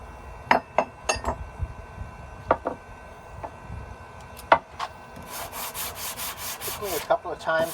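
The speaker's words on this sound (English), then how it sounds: "to give it another stroke or two with a sanding block." Sanding block worked by hand on the wooden handle of an old Norlund axe being restored, fitting into the shoulder: scattered knocks and clicks, then several close, rhythmic rasping strokes.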